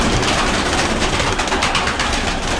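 A loft full of pigeons coos and rustles in a dense, loud, continuous chorus close by, with no talk heard.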